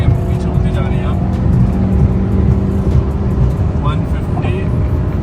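A VW Vento 1.6 TDI and a Honda Accord run a drag race, their engines droning steadily at speed with a constant rumbling hum and wind noise throughout, while someone talks over it.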